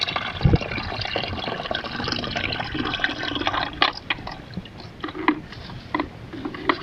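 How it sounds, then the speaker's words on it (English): Drinking water runs and gurgles into a bottle in a Bulgarian village, a steady splashing pour with small bubbling surges and occasional clunks, no voices. "Watching a bottle fill up."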